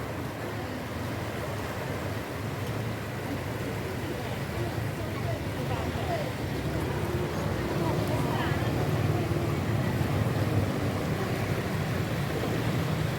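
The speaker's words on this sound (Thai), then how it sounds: "น้ำไหลไหลแรงมากเลย" Strongly flowing floodwater rushing steadily past, carrying debris, a continuous loud churning wash with wind buffeting the microphone.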